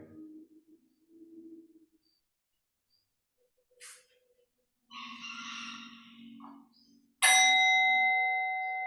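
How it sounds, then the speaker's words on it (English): A bell strikes once during a new moon yoga session, its clear ringing tone starting sharply and sustaining as it slowly fades, after quieter scattered sounds earlier. "Allow the bell to return you back into your body at your pace with no rush"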